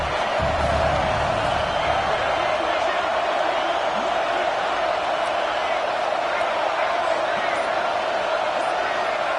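Steady roar of a big stadium crowd in College Football 26, loud and unbroken throughout with no clear rises or lulls.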